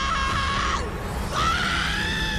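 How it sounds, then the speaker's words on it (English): A sustained, piercing female scream from the 2014 animated film The Book of Life, loud and continuous, its pitch dipping briefly in the middle before rising again, with no talking over it. "I know that scream all too well"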